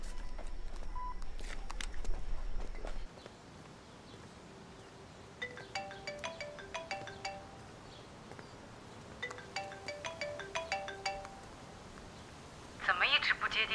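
A telephone rings unanswered, repeated electronic ring bursts sounding in two clusters over a quiet, slightly noisy room, with a louder burst near the end.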